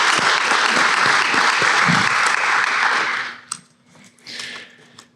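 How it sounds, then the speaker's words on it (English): A community forum audience gives a loud, dense round of clapping for about three seconds, then it drops away to a few scattered claps and quiet room noise. "I also want us to do a round of applause just for the joy of being back in flesh and blood community"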